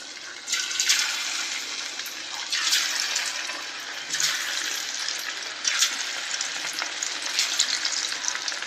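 Marinated raw anchovy-type small fish pieces drop one by one into hot oil for deep frying. Each addition brings a fresh, loud burst of crackling sizzle, repeating every second or so over a constant bubbling hiss.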